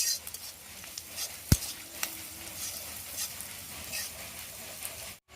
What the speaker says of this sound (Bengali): তো আমি পেঁয়াজ মরিচটা কিন্তু একটু ভাজে নিচ্ছি।